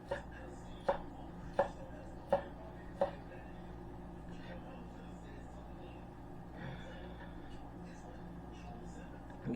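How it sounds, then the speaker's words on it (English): Knife chopping corned beef into cubes on a cutting board: four sharp, evenly spaced chops early on, then quiet kitchen room tone. "And get all of this corned beef cubed up."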